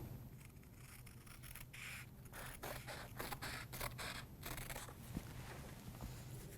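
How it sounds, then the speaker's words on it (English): Scissors cut through fabric to trim a square down to the size of the stabilizer for a custom apparel craft project, producing a run of repeated crisp snips and scraping close by, with no talking. "I'm going to take my scissors and I'm going to cut the fabric"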